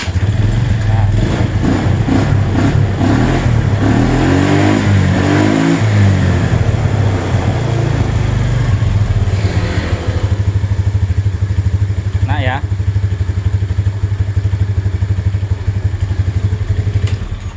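A Suzuki Spin scooter engine fitted with a Vega carburetor runs steadily with a loud, continuous low drone. A few revs rise and fall early on, and a short whistle-like tone cuts through near the end.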